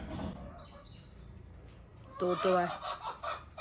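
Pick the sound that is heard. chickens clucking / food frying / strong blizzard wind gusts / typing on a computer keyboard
chickens clucking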